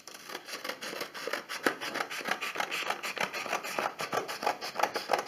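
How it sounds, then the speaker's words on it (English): Scissors cut strips of paper grass for a craft photo prop, a steady run of quick, close snips and rustles, evenly rhythmic and moderately loud, with no voices. "So I'm gonna cut this way"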